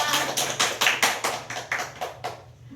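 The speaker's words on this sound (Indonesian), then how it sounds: "Beri aplaus untuk kita semua" A brief burst of classroom applause, about ten evenly spaced claps that are loud and close, tapering off toward the end.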